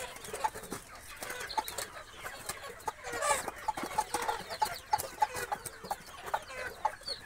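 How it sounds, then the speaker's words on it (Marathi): On a small poultry farm, a mother hen with fourteen newly hatched chicks clucks softly while the chicks keep up a scattered stream of thin, high peeps close by. "पूर्ण 14 पिल्ले काढले कोंबडीने."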